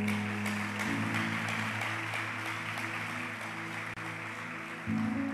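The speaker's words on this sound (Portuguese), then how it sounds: "quero que você aplauda mais uma vez" A church congregation applauds in a steady, sustained wash of clapping, with organ or keyboard tones sounding underneath throughout.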